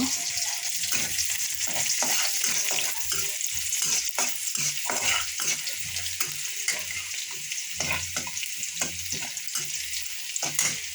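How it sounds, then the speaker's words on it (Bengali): Onions fry in oil with a continuous sizzle while repeated scraping stirs of a spoon in the pan run through it, close up and fairly busy. "পেঁয়াজটা আমার ফ্রাই হয়ে এসছে"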